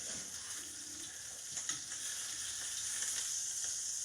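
A steak fries in oil in a pan, giving a constant close sizzle that swells slightly toward the end, with a few faint clinks and no voices.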